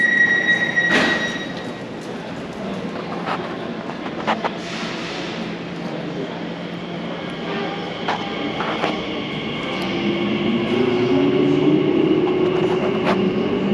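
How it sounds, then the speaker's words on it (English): An Elizabeth line train pulls away from the Paddington tunnel portal, rumbling steadily with scattered clicks and knocks, and wheels begin squealing in rising tones as it gathers speed. "just let this train leave"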